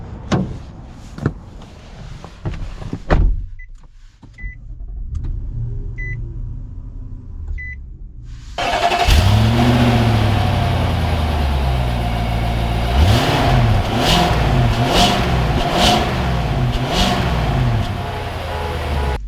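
A 2021 Nissan Armada SL SUV sits quietly while a few soft cabin chimes sound. It then sets off, and its engine note climbs loudly through several rising sweeps as it accelerates through the gears.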